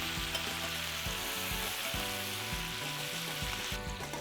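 Thyme tossed into a hot pan with seared duck breast crackles in a dense, steady sizzle, close and even, with faint stirring scrapes underneath.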